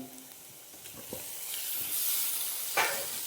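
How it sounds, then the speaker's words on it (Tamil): Chili powder masala fries in oil, a soft steady sizzle that grows slightly louder, broken by a few light scrapes and clinks of stirring. "நம்ம இந்த ஆயிலே மிளகாத்தூள் மசாலா போட்டு வணக்கும் போது குழம்போட கலர் நல்லா கிடைக்கும்"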